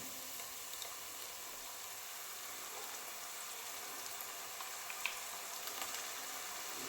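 Onion drops into hot oil and sizzles, a steady, even hiss with faint scattered pops, close and continuous with no talking.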